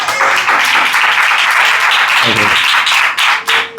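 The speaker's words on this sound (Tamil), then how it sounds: "சந்தோஷம் இருந்தால் கைத்தட்டு" A church congregation claps hands at a Tamil sermon, loud, close, dense clapping that runs continuously with a faint voice underneath before it briefly dips near the end.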